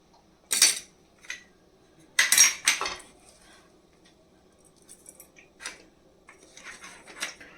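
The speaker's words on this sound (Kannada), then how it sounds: "ಪಾಸ್ತಾ ಬೇಯಿಸಿಟ್ಕೊಂಡಿರೋದನ್ನು ಈಗ ಹಾಕ್ತಾಯಿದ್ದೀನಿ" Cooked pasta tipped into a metal pan with a spoon, a few sharp clinks and scrapes of utensil against cookware in short separate bursts, with quiet gaps between them.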